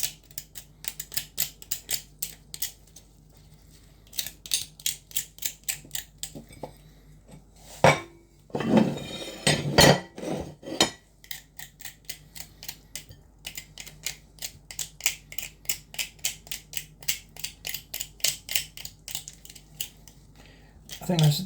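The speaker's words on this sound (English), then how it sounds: "scrape it off with a knife" Knife blade scraping along a crab shell while the crab is being dressed, rapid repeated scratchy strokes in rhythmic bursts, close up, with a louder handling clatter midway.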